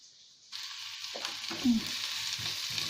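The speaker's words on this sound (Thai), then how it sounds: "ยายกำลังจะไปผัดเห็ดนะ" Mushrooms and onion stir-frying in butter in a home kitchen pan, a sudden loud sizzle bursting in and holding steady, with scraping stirs and clinks on top, close by and with no one speaking.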